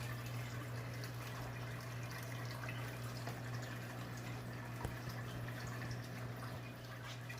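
Water flowing steadily in a reef aquarium sump, a continuous soft trickle and splash over a low pump hum, with occasional faint drips.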